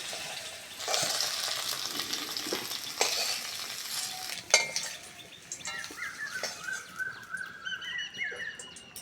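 Okra frying in a pan and being stirred, a soft continuous sizzle with scraping and occasional clinks of a utensil against the pan, fairly quiet and close, no talk.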